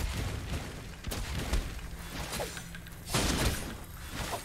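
Cannon fire in the battle royale game Naraka: Bladepoint, heard as two sharp blasts about two seconds apart over a steady bed of game noise.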